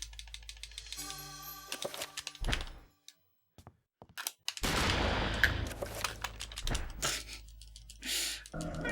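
Gunfire in the video game Eternal Darkness, a few sharp sudden shots separated by a silent gap, mixed with other in-game sound effects.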